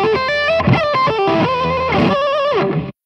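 Overdriven electric guitar playing a quick solo lick with sliding notes, its pitch gliding between tones in a loud, continuous phrase of about three seconds that cuts off abruptly.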